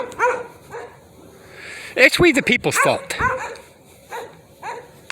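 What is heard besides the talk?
neighbor dogs barking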